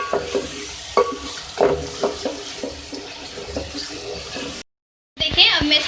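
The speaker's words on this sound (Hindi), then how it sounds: "उसको मसाले को भून लेंगे" Masala spices with crushed red chillies stirred and fried in a pan, scraping stirs and soft sizzling in uneven bursts up close, broken by a short silent gap before louder stirring resumes.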